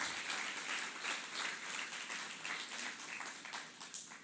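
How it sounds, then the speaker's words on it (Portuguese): A church congregation applauds during a sermon, a quiet, steady wash of many hands clapping with a light pulsing rhythm and no voices over it. "Você pode aplaudir ao Senhor se você acredita mesmo nisso."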